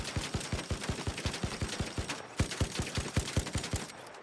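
Rapid automatic gunfire in the ARC Raiders video game keeps hammering at the Queen's leg, a steady stream of sharp thudding shots with a brief gap midway, loud and close over a noisy battle background.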